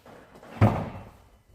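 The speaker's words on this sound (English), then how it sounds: "an aftermarket electric tailgate, remote controlled" An aftermarket remote-controlled electric tailgate on a high-top short-wheelbase van conversion closes with a single solid slam, loud and near, its heavy thud trailing off over about a second against a quiet background.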